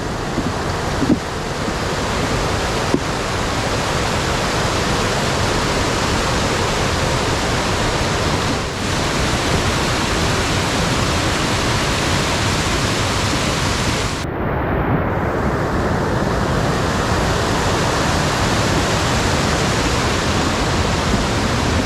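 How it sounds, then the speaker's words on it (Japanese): Rushing river water heard on a rainy mountain gorge trail, a loud, steady broadband roar that continues unchanged for the whole stretch, with a few brief handling bumps and no talk. "川が近づいてきたね。"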